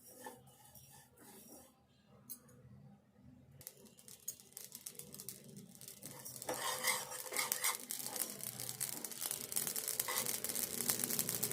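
Poppy seeds and spices are stirred and fried in a pan for a fish curry, soft scraping at first, then a rising crackling sizzle with rapid clinks and scrapes of a utensil against the metal.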